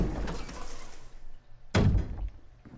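A wooden door in the Resident Evil game creaks and swings open in a mansion stairwell, then lands with a single loud, close thud over low ambient rumble.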